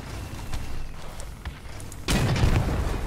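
A heavy weapon blast in Crossout, a sudden loud booming burst that follows a stretch of rumbling vehicle combat and scattered shots, with the roar continuing afterward.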